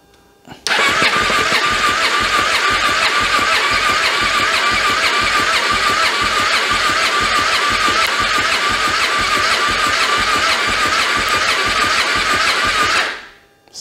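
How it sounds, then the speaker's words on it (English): A neglected Kawasaki KFX700 ATV engine cranks steadily for about twelve seconds without catching, the starter giving a loud, fast, even chugging rhythm close up before it abruptly stops. "let's go ahead and give this thing a first fire, guys. See if she fires up."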